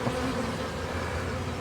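A swarm of bees buzzes around the outside of a new hive, giving a dense, continuous drone up close with no talking.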